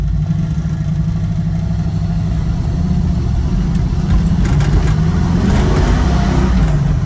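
A 1969 Camaro with a 454 V8 and six-speed manual pulls hard with some tire spin, a loud, close, deep engine rumble that builds steadily with faint higher hiss toward the end.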